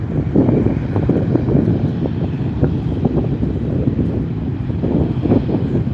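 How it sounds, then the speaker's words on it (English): A Southwest Airlines Boeing 737-700 airliner passes at SNA airport as a steady, loud broadband engine roar with wind buffeting, holding level for the whole stretch. "This one's a Southwest 737-700 going to Sacramento, California."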